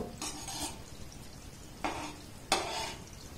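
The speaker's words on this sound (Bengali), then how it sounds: "এইভাবে হালকা গরমে দিয়ে এগুলোকে ভাজতে হবে" Food fries gently in lightly warm oil in a wok, a soft quiet sizzle broken by three short bursts of stirring and utensil scrapes against the pan.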